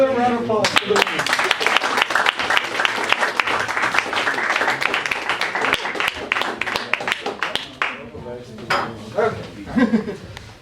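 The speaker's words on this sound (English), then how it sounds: "So another round of applause for the winners." Loud, dense applause from an audience at a math olympiad closing and medal ceremony, sustained for about eight seconds before thinning into scattered claps, with voices and chatter mixed in underneath.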